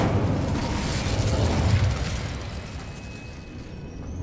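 The Incendio fire spell is cast in Hogwarts Legacy, a loud, rumbling burst of flame that roars and then slowly fades away.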